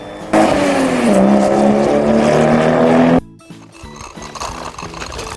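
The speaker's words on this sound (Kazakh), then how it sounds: "Көлік." A car engine runs loudly and steadily for about three seconds, with a rising tonal drone, then cuts off abruptly, leaving quieter mechanical clatter and background rumble.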